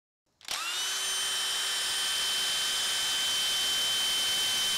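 A Dewalt Flexvolt Advantage hammer drill driver bites into metal, starting abruptly and then whining at a steady high pitch, loud and close with no other sounds.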